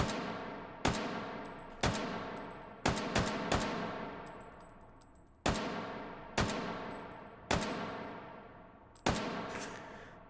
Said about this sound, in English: So let's shoot.